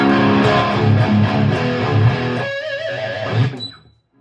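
A heavy, distorted electric guitar through a Mesa Boogie tube amp plays loud sustained chords, then the final chord rings out and fades into silence.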